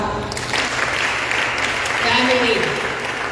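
A church congregation applauds during a Christmas Eve sermon, a steady, dense wash of clapping that fills the room from start to finish.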